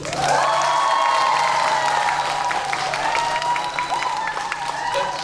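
A large civic town-hall crowd in Sejong breaks into sustained applause with cheering and shouts, a loud, continuous roar of clapping and voices that holds steady throughout.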